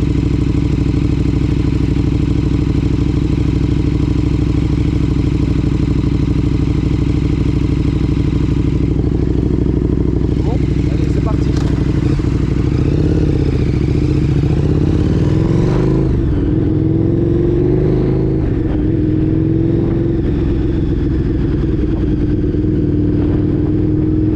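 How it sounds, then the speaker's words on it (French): A KTM 1290 Super Duke R twin-cylinder motorcycle is being ridden, its engine a loud, continuous, deep drone that shifts in pitch as the rider changes speed, with wind noise throughout. "Le bruit du bicylindre est absolument sombre."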